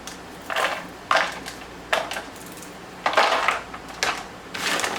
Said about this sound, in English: So I'm going to take some walnuts, like a handful of walnuts. I like to crumble mine even more than what they're crumbled.